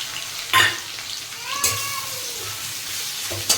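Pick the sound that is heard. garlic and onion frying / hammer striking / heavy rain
garlic and onion frying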